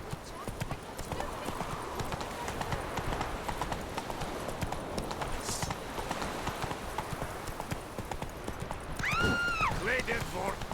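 Roach, a horse in The Witcher 3, galloping with brisk, rhythmic hoofbeats close by, a whinny near the end, and talking over the pounding.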